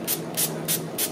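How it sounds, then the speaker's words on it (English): Four quick, close hissing bursts from a spray bottle misting melt and pour chocolate-scented soap, evenly spaced, with a faint low hum beneath. "So again, we're going to spray"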